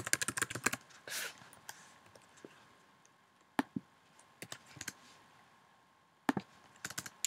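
Typing on a computer keyboard while coding HTML in TextWrangler on a Mac, with scattered bursts of quick close clicks separated by short pauses, no voices.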